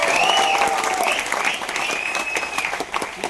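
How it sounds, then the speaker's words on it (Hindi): An audience at a business gathering claps for a honored member, a steady crackle of many hands that thins out toward the end, with a voice faintly over it. "उनके लिए जोरदार तालियां।"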